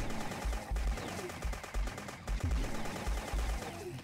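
Gunfire in a blocky, Minecraft-style first-person shooter, rapid bursts of automatic shots with thumping low ends, loud and close, repeating in clusters across the whole stretch.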